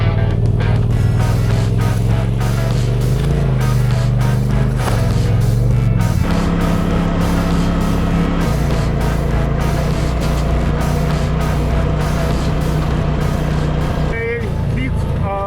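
Engine drone and road rumble heard from the passenger seat of a Pro XB utility vehicle on an off-road trail outing, steady and loud throughout with shifting engine pitch and some clatter.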